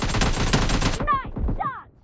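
Rapid automatic gunfire in PUBG Mobile TDM mode on Evo Ground: a dense burst of close shots, then single reports with ringing, whistling tails.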